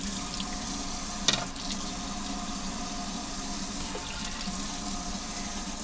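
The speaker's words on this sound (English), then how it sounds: "I'm going to clean the lid off. You just wash the lid." Running tap water splashes steadily over a pasta machine lid coated with egg as it is washed at a sink, a continuous close rush with one brief clatter early on.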